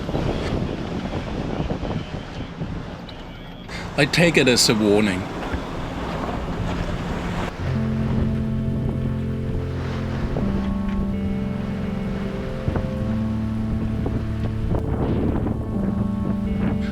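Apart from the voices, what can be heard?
ocean waves breaking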